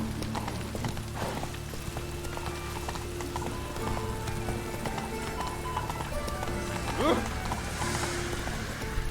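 The horse Roach gallops in The Witcher 3, a steady clip-clop of hooves running under ambient game sound.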